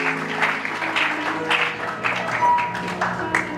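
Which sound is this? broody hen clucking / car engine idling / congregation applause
congregation applause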